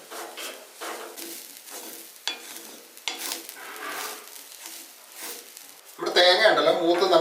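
Half a cup of grated coconut dry-roasting without oil in a pan, a spoon scraping and stirring in steady strokes, with a louder burst of sizzle and clatter at the end.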